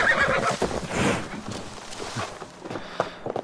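A horse in the video game Assassin's Creed Valhalla gives a loud whinny at the start, followed by softer snorts and scattered hoof clops over a quiet game ambience.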